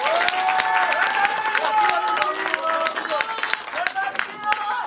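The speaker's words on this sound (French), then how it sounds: "Applaudissez, applaudissez." An audience applauds loudly with dense continuous clapping, mixed with cheering and excited voices rising over the crowd, sustained throughout.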